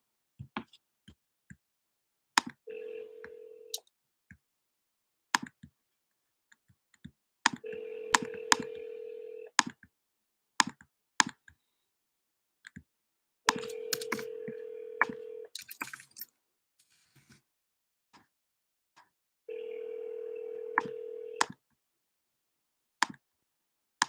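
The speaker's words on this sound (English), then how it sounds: "So let me dial out while I'm starting to run these comps." An outgoing phone call rings out: four long, steady ringback tones at regular intervals, mixed with scattered sharp clicks and taps between them, heard fairly close and alone.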